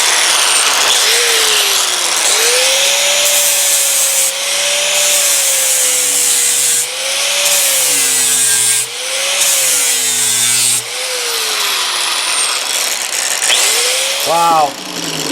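A heavy-duty power sander works a copper beech wood tray, giving a loud continuous gritty whine that dips and rises as pressure changes, with a few brief pauses and a final shift near the end.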